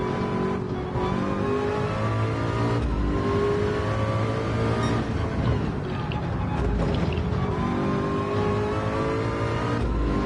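Race car in a Le Mans VR racing game on a drying track, engine droning and revving steadily with gear changes, loud and continuous throughout.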